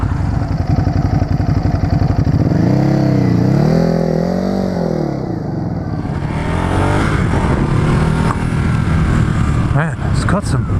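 Ducati Hypermotard 939 with its square engine ridden on the road near Concord, California, the engine pitch climbing and falling through gears against heavy wind rush, loud and close.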